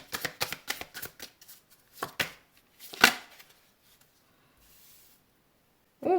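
Oracle cards being shuffled for a December reading give a quick series of crisp riffling slaps, close and fairly loud, then a single sharper flick and quiet rustling, with no talking.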